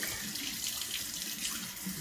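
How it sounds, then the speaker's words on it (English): A tap runs hot water steadily into a sink, a continuous hissing splash of water with no voices. "So, just gonna get some hot water in the sink."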